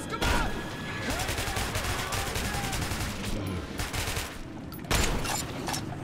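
Rapid bursts of automatic gunfire rattle through a firefight in the video game Metro 2033, sustained volleys with a brief pause and a sharp renewed burst near the end, loud and close with scattered shouts in the mix.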